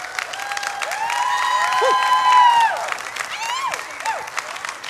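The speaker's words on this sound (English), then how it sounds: "hand clap, please" An audience at a church gathering breaks into hand clapping that swells to a steady, loud patter around the middle and then thins out, mixed with bright whistled or cheering tones and vocal sounds over it.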